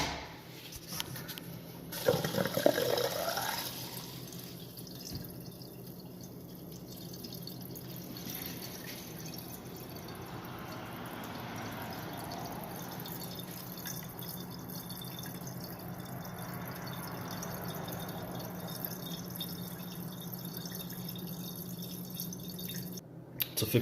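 Water from a clogged dishwasher sink air gap sprays and splashes steadily, a brief louder gush near the start settling into a continuous hissing flow with dripping, no voices.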